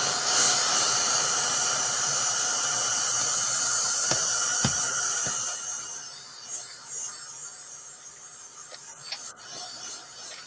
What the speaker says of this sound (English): I'm going to use my other dryer so I don't have to turn the sound off.